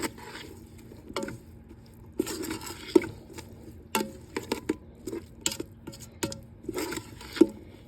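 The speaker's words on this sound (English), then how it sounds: "I'm going to add this in now to my pot, and then I'm going to stir it all up." A spoon stirs salt and seasonings into a pot of spaghetti sauce, giving close, irregular clinks and scrapes against the pot, with soft wet squishing between them and no talking.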